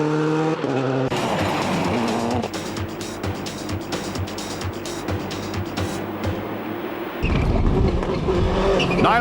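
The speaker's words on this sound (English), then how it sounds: "Niall Maguire slides his way in pursuit of the leader" During the 2004 Circuit of Kerry in Irish rallying, a rally car slides through a stage with a loud revving engine, rapid gear changes and clattering gravel, followed by a sharp swell as it passes close.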